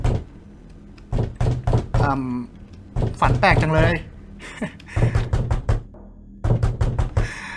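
A door is knocked on in the horror game Slender Mirror World, with bursts of steady knocks at the start and again near the end while someone talks over most of the stretch.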